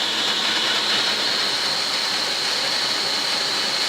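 A Litehawk Quattro quadcopter's motors whir loudly and steadily at raised throttle, a dense, high-pitched buzzing hum with a faint rushing edge and no voices.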